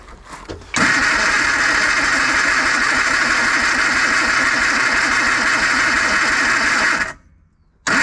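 A Classic Mini engine with a freshly refitted cylinder head cranks on the starter for about six seconds without catching, a loud steady whirr with a rhythmic chugging pulse, then cuts off abruptly.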